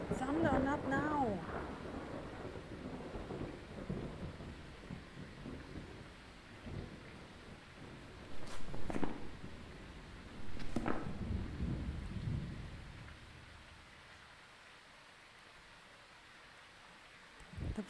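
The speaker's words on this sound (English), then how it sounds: "Thunder, not now." Deep rumbling thunder in the video game Phasmophobia rolls in waves with rain hissing underneath, a couple of sharper cracks midway, then fading to quiet.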